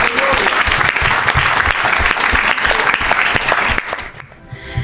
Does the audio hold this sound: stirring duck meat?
no